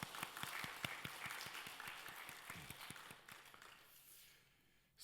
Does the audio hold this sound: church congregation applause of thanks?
yes